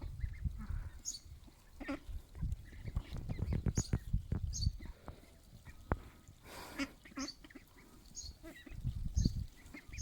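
A mulard duck and goslings on a farm, with repeated nasal quacks and honking calls scattered across the scene, some close and loud, others softer, over faint outdoor background.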